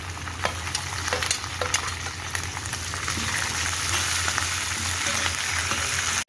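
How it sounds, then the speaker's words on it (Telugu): Green and dried red chillies frying in a tempering for usirikaya pulihora, steady sizzle with crackles and spoon stirring scrapes, no voices. "ఎండుమిరపకాయలు కూడా బాగా వేగాలండి."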